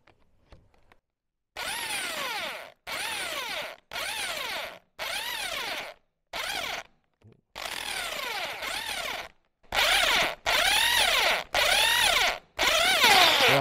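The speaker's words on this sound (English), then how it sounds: "Now I can get my step drill and open it up to 8." A step drill bores and widens a hole in metal during a motorcycle build on a Honda CB1100RS, heard as about ten loud close bursts of high whining drilling separated by brief silent pauses.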